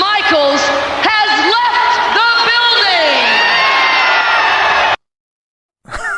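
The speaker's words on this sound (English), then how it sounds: "You hear the crowd chant like, yeah." A large wrestling arena crowd at a WWF event in 1993 roars and whoops loudly and continuously for about five seconds, then cuts to a brief silence before the noise returns.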